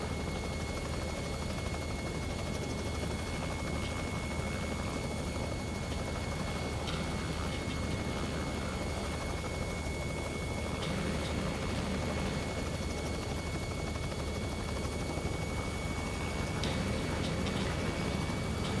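Robinson R66 helicopter in the X-Plane 11 flight simulator, a steady broadband rotor and turbine drone holding level and close throughout, with no talk.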